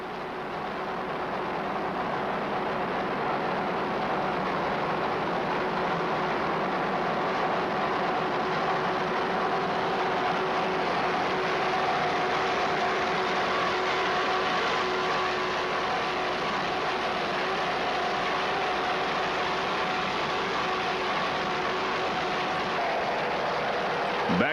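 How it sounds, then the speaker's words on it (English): Two 580-horsepower Saris racing engines on an offshore powerboat during the Key West world championship race: a steady, loud, continuous roar with sustained droning tones, unbroken for about twenty-five seconds and without talk. "Powered by 2 580 horsepower Saris racing engines. Just listen."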